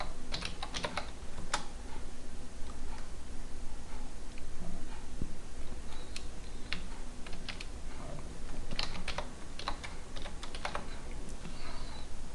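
Steady computer-keyboard typing while concrete material quantities are set up in Revit, with irregular clusters of close, crisp keystrokes spread across the whole stretch and no talking.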